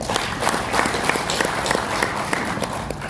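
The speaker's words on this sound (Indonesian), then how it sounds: "Tepuk tangan buat kita semua." Applause from the audience at an interactive dialogue event in Jakarta, a steady crackle of many hands clapping that holds for about three seconds with no one speaking.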